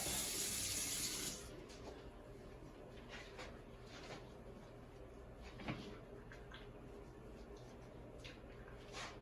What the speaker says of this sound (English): First, as always, we're going to wash our hands.